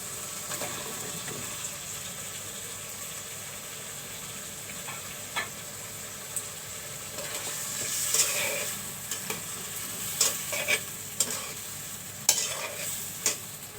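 Cauliflower and broad beans frying in a pan with a steady low sizzle, spoon scrapes and clatters from stirring growing more frequent and louder in the second half.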